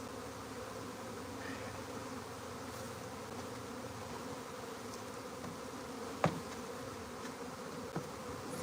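A live honey bee swarm buzzing, a dense and continuous drone of many bees close by that holds steady throughout, broken only by a couple of brief knocks.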